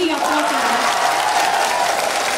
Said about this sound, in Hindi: बस एक बार आप मुझे वो तालियां दीजिए जिसकी मैं हकदार हूं इतनी लंबी यात्रा से